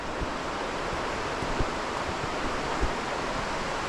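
Steady rushing water from waterfalls along a walking route, a dense, continuous roar heard close by with no voices.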